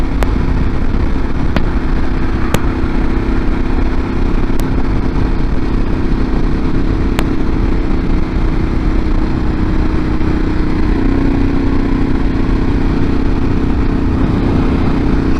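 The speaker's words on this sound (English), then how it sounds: "1200cc V-twin, basically a slightly detuned race motor" A 1200cc V-twin motorcycle engine, a slightly detuned race motor, drones loud and steady at close range throughout, its rumble unbroken with a few faint clicks over the top.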